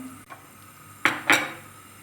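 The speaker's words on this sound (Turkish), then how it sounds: "Şimdi bu aşamada ben nohutlarımı ekliyorum." Chickpeas tipped into a pot of Turkish black cabbage (kara lahana) stew, giving two quick clattering splashes against the pot after a soft scrape, close and alone without talk.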